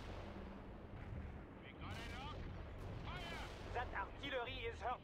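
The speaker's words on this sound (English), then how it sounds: "That artillery is hurting my men." Artillery shelling in the World in Conflict video game booms under a busy game soundtrack, with game voices speaking over the blasts.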